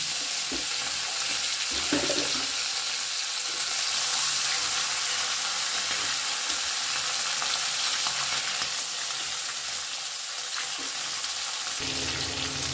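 Parshe fish frying in hot oil give a loud, continuous, crackling sizzle close up, with a brief clatter as the pieces are turned, and no talking.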